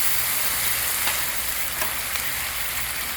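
Vegetables stir-fry on a Blackstone griddle for a sweet chili chicken pineapple dish, producing a loud, steady sizzle with light stirring scrapes and no talking.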